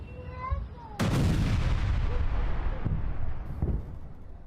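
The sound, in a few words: rocket and missile attacks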